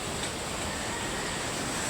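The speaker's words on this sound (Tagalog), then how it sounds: "Lakas pa rin yung alon ngayon guys." Steady roaring surf of strong ocean waves, a constant broadband wash of breaking waves with some wind noise, loud and unbroken throughout, no voices.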